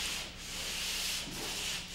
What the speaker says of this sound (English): I like to sand out any trowel marks or ridges or unfeathered edges that I left while second coating